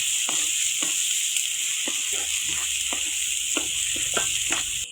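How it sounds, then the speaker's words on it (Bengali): Potatoes stirred and sautéed in a pan of cooked spice masala, a steady sizzle broken by repeated scrapes of a spoon against the pan, close and fairly loud, with no talking. "এখন আমি আলু দিয়ে দেব এখন ভালো করে এগুলি কষিয়ে নেব"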